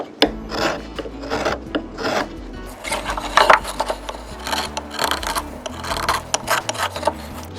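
Steady rasping and rubbing of a hand tool shaping the rounded bowl of a wooden ramen spoon, close and fairly loud, in repeated strokes of uneven rhythm with no talk.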